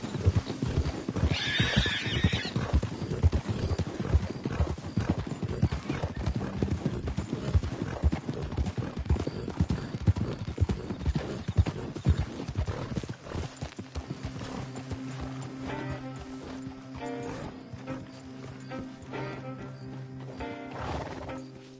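Horses' hooves in Red Dead Redemption 2 clip-clop steadily at a walk, close by, with a horse whinnying briefly early on; the rhythmic hoofbeats fade into a quieter hum later.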